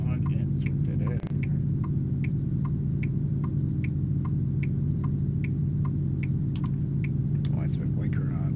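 A steady, loud low truck engine drone in the American Truck Simulator video game, with a regular ticking, likely the blinker, clicking over it and a brief bump near the start.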